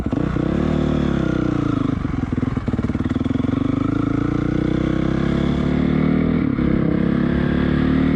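2006 Honda CRF450R dirt bike with a shaved clutch basket running close by, its engine revving and dipping as gears are shifted, a loud continuous buzzing drone with mechanical clatter.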